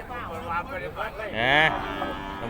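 A cow at a Thai cattle market gives one close, loud, rising moo lasting about half a second, amid voices talking around it.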